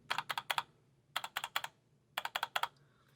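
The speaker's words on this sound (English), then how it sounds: "now I'm going to do it on the space bar on the ends and then on the center" Three quick groups of space bar clacks on a mechanical keyboard with red switches, pressed on the ends and center, each a burst of about four sharp presses, close and fairly loud with brief pauses between.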